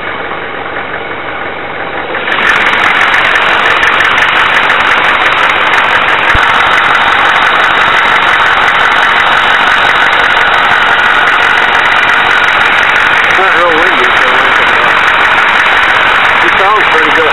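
Engine of a 1994 Chevy K2500 pickup truck idling, a steady, loud, close rumble that starts a couple of seconds in and holds evenly without revving.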